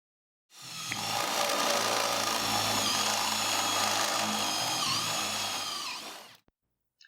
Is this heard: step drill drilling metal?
yes